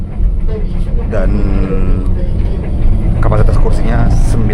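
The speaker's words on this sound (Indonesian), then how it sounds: "Bus yang kita naikin ini Hino" Riding inside a Hino city bus with a Laksana body on the Trans Depok route, a steady loud engine rumble and road noise continuing throughout.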